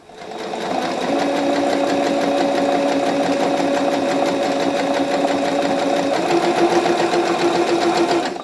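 A sewing machine stitching fabric for a tablet holder, running steadily at close range with a fast, even mechanical whir and rattle that holds for several seconds before easing off.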